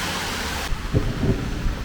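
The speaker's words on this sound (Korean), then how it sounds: "천둥 소리" A low, heavy rumble of thunder rolls in beneath steady rain noise, swelling briefly in two dull surges.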